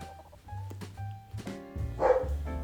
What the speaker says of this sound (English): My dogs are going to start barking because they hear me up here talking